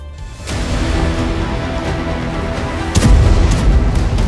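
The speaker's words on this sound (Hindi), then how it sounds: "तेज रफ्तार में दुश्मन की तरफ दौड़ रहे हैं टैंक, हो रहे हैं धमाके" Deep booming blasts rumble in the distance during a military tank exercise, one sharp thud followed later by a heavier, louder explosion that lingers under continuous low rumbling.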